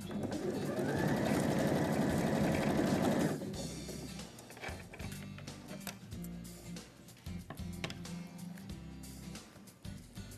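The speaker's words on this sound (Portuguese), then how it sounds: "Novamente, costurando." A sewing machine stitches patchwork fabric for an autumn-leaves table runner, starting with a loud, fast, continuous burst of stitching that stops after about three seconds. Quieter fabric handling and small clicks follow.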